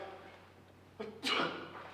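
A single quick sneeze bursts out after a soft intake of breath, faint and close in a quiet room of a house.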